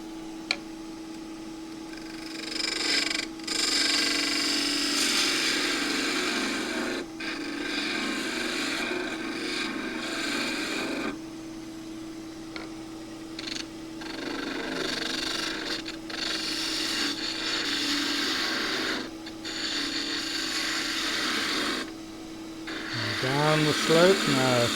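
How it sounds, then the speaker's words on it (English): A spindle gouge cuts a spinning piece of an old wooden table leg on a lathe, giving a steady close scraping and rasping hum with brief pauses between passes and someone talking quietly over it. "Or I could even get another gouge. Another 1/2 inch spindle gouge,"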